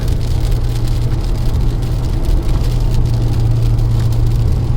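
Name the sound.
road traffic, many vehicles passing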